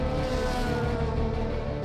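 A DTM touring race car engine at the Nürburgring gives a loud, continuous droning roar for a moment, heard close and without voices.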